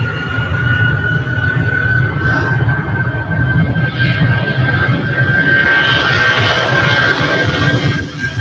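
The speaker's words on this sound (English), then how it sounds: "goes the Boeing" A Boeing 757 jet airliner's engines roar steadily at Manchester Airport, a loud, continuous broadband rumble with a sustained high whine running through it, close and unbroken for the whole stretch with no talking.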